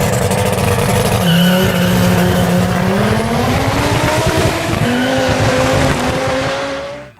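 A Fiat Marea 2.4 five-cylinder engine roars loudly and continuously, its pitch climbing and shifting as it revs up, close and dominant, fading away at the very end.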